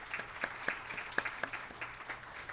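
A quiet, thin round of applause for Access Health Connecticut at a small business summit, scattered individual claps standing out from a soft, sparse patter in a fairly roomy space.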